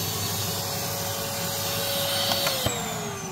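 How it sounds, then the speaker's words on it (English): A steady, loud motor hum with broad hiss from a vacuum cleaner running nearby, used on a BMW E60 M57 engine during oil level sensor replacement, with a couple of brief clicks near the end. "Let's try the vacuum cleaner trick."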